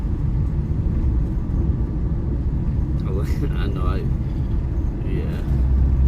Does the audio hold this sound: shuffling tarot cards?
no